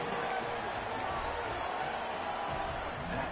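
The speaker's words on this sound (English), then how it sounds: "this crowd is buzzing after that last score" Football stadium crowd buzzing after a touchdown, a dense steady roar of many voices with scattered whistles and whoops, sustained and loud throughout.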